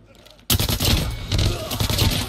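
A Striker 45 firing in Call of Duty Mobile, an abrupt burst of rapid loud shots following a short quiet moment, continuing densely to the end.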